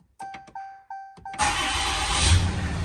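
A 2017 Ram pickup truck engine cranks in several short bursts, then catches and roars to life, settling into a loud, steady idle close by.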